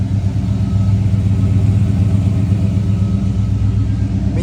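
A 1966 Chevrolet Chevelle Malibu convertible engine running steadily close by, a loud deep rumbling idle with an even pulsing throb and no talking.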